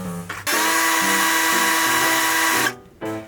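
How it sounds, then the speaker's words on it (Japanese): A power drill with a stainless-steel step drill bit whines steadily at high pitch for about two seconds, starting and stopping abruptly, loud and close, with brief quieter mechanical noise before and after. "この先っちょについてるとんがりコーンみたいなやつは、ステンレス用のステップドリルです。"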